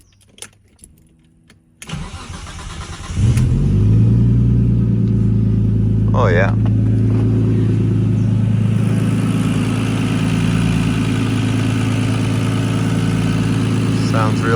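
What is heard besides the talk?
RB engine with R35 coils starting and idling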